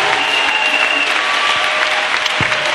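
A church congregation applauding loudly and steadily, a dense wash of clapping that fills the space without pause.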